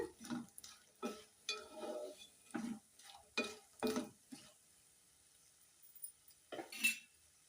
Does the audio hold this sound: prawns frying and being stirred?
yes